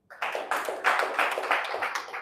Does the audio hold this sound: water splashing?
no